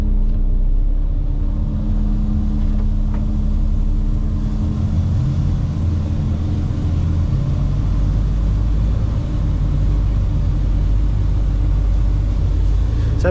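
Loud, steady engine rumble of a truck pulling farm wagons during harvest, a continuous low drone close to the mic with no speech heard.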